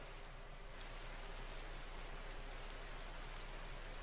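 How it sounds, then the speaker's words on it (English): Rain falling steadily in the video game Tales of Berseria, a constant soft hiss of drops with no voices over it. "Does it always rain here, or is this just kind of a recent development?"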